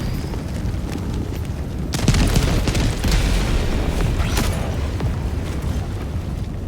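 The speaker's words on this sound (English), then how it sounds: "Calling down a support weapon." A support weapon drop slams down in the Helldivers 2 video game, a deep booming impact with a rumbling burst and debris crackle, loud and close, with smaller mechanical clanks trailing after.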